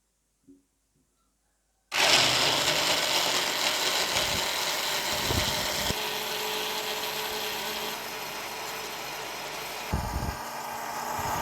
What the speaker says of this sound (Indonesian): sekarang kita akan blender ketiga bahan ini